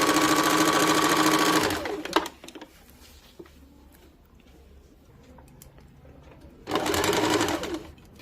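An electric sewing machine runs a double line of stitching along the half-inch shoulder seam of a katori-cut blouse in two loud, steady bursts, with a quiet pause of small handling noises between them.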